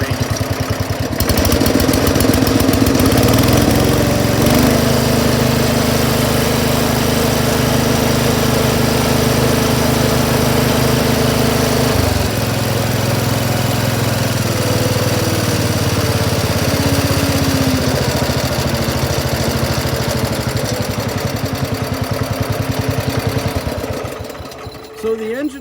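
A small machinery engine, cold-started during a pre-use check, runs loud and close, then steps through its speed range to about 3,600 RPM, its pitch shifting in distinct jumps before it settles and cuts off near the end.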